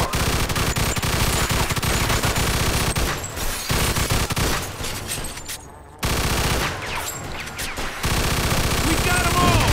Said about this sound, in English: Stop shooting that fucking thing